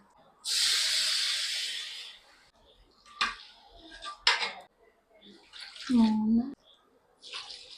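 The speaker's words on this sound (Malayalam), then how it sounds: "ഇത് തന്നെയാണ് ഞാനിപ്പോൾ ഒരു 6 ഗ്ലാസ് വെള്ളം ഒഴിച്ചു കൊടുത്ത് ഇത് വേവിച്ചെടുക്കാൻ പോകുന്നത്." Water poured from a glass into a pot of wheat rava for khichdi, a steady gushing splash lasting over a second, followed by shorter pours and clinks of the pot, with a voice talking briefly in between.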